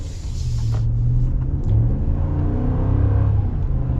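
A 2022 Ram 1500 BackCountry pickup with its Hemi V8 pulls away under throttle, a steady low engine rumble and rising drone heard from inside the cab, continuous with no speech.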